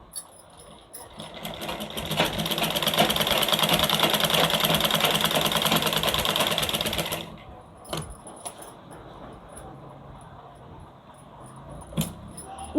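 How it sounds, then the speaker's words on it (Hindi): A sewing machine stitches a blouse collar in a fast, steady mechanical whir for several seconds, then stops, leaving faint clicks and handling noises. "इस तरह हम इस पर डबल मशीन चलाएंगे ताकि ये सिलाई बैठ जाए।"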